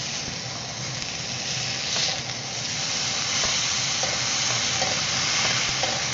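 Plantains frying in a pan give off a dense, steady sizzle and hiss, loud and close, with faint pops and stirring scrapes underneath and no talking.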